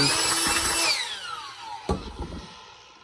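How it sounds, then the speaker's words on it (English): A small Ryobi cordless blower clearing dust from a workbench build, its whine spinning down over about a second, followed by a couple of short knocks close by. "This little Ryobi blower, man, this thing's great."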